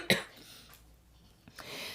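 A single sharp cough near the mic, followed by quiet room tone and a softer breathy sound toward the end.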